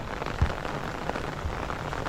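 The first monsoon rain patters on the ground in a village field, a fairly quiet, steady hiss of drops with a couple of low thumps and no voices.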